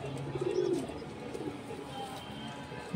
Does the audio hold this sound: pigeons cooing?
yes